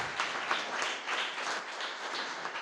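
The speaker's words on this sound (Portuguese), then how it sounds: "Você pode aplaudir o Senhor?" A church congregation claps together at a Sunday evening service, steady dense applause filling the room at moderate level with no talking over it.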